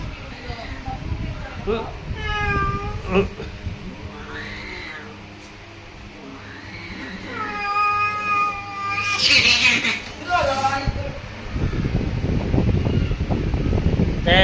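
A frightened cat meows repeatedly, with drawn-out wavering cries and yowls close by, while people talk around it and a rough rumbling noise rises toward the end.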